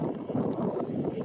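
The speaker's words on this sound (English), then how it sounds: "all that noise you hear is the wind" Cold, gusty wind buffets a microphone fitted with a windscreen muff outdoors at a railfan gathering, a brief, muffled low rumble with no speech.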